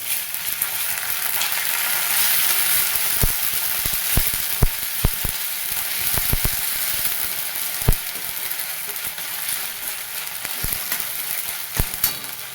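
Onions frying in a pan with ginger-garlic paste added give a steady close sizzle, broken by a series of sharp clicks and scrapes from a spoon stirring against the pan, with no talk.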